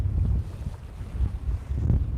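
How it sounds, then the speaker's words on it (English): Gusty wind buffets a boat during rainy pike fishing, a low rumbling roar against the microphone that swells and eases in uneven pulses. "It's quite windy right now."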